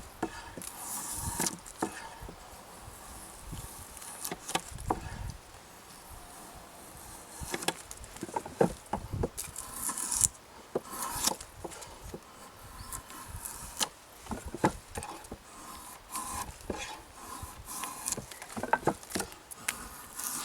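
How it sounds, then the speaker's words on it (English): A draw knife shaves green wood clamped in a shavehorse, making repeated crisp scraping strokes in an irregular rhythm with short pauses between cuts, close and fairly loud, with no talking. "the draw knife starts to get a really nice smooth cut on each one of those facets"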